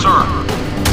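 A helicopter in the Modern Warfare video game fires a missile: a short, loud burst of booming, thudding blasts with a brief tonal whine, over within a second.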